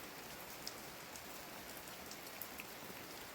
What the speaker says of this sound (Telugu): ఇప్పుడైతే వర్షం కొంచెం తగ్గింది